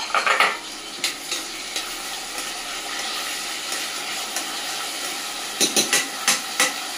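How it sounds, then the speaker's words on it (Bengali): Carrots sizzle in a hot pan with whole cumin for a Bengali-style quinoa pulao, giving a steady frying hiss broken by a few sharp stirring scrapes near the start and end, with no talking. "আর নিয়ে নেব গাজরটা, ভেজে নেব একটু।"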